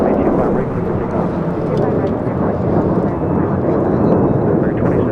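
Airliner departing LAX runway 25 right, a loud, steady broadband jet roar that stays constant and close throughout, with no breaks or quieter passages.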